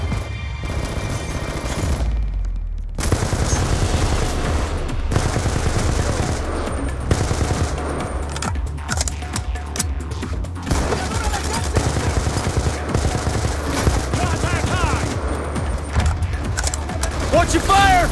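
Sustained automatic gunfire and explosive bangs from Call of Duty: Black Ops 2 rattle loudly and almost without pause, mixed with shouted voices over the battle.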